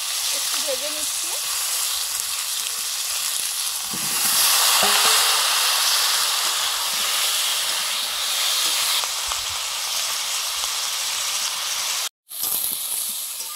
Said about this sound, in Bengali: ফুলকপি আলু ভাজা হয়ে গেছে, নিয়ে নিচ্ছি।